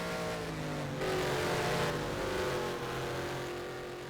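A race car in a sim racing endurance event at Bahrain, a continuous engine roar with shifting revs as the car runs wide through a corner, loud and steady throughout.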